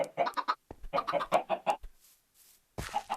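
Chickens in a Minecraft farm cluck in quick bursts of clipped calls, loud and close, in two clusters followed by a short pause and a final burst.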